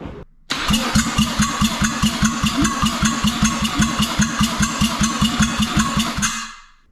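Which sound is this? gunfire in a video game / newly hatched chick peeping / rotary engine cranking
rotary engine cranking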